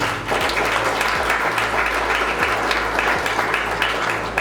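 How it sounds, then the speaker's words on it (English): A community gathering gives a round of applause, with a steady mass of clapping heard fairly close. Faint low tones recur underneath it. "big round of applause for them."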